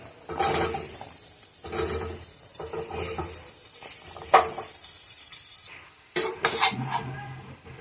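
Bottle gourd sizzles loudly in a hot wok while a utensil scrapes and stirs now and then, with a brief metallic clatter near the end.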